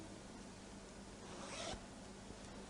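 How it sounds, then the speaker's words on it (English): An invisible zipper sewn into a garment is zipped up completely in one short, soft rasping pull, brief and close, against a quiet background with no speech. "what I'll do now will be to zip it up completely"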